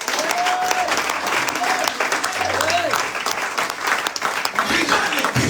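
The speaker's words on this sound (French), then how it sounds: "Est-ce que vous pouvez acclamer le Seigneur?" A church congregation applauds the Lord, a steady wash of clapping filling the room throughout, with faint voices and a sustained tone drifting underneath.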